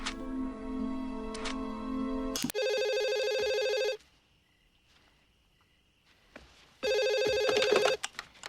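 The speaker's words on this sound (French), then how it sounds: "une femme seule chez elle qui reçoit un coup de téléphone avant de se faire une soirée film d'horreur" Landline telephone ringing in the opening scene of the horror film Scream, a woman alone at home; loud electronic ring bursts with a break of near silence between, then ringing resumes.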